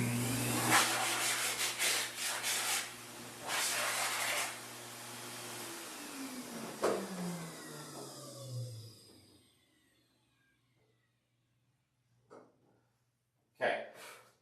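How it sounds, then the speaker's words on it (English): A pet hair dryer used on a King Charles Cavalier spaniel blows loudly for a few seconds, then winds down and falls quiet, followed by a couple of brief clatters. "I'm going to turn this dryer on for 1 second."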